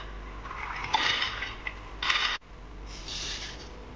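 Spices roast in a hot kadhai over a low gas flame for stuffed baingan masala. The stirring makes intermittent close scraping and rubbing against the pan, with no talk.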